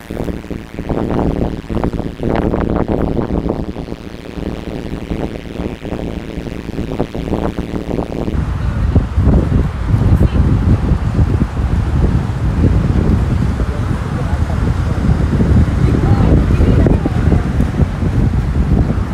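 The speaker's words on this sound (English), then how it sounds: "How's that wind though?" Wind buffets a microphone outdoors in a van-life setting, a loud, continuous low roar that swells and gusts throughout, with a person talking over it.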